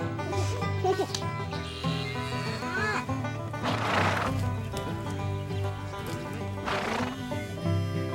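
Horses whinny loudly twice, each neigh a shrill, wavering cry, with hoof clops and other animal sounds over a music-like background.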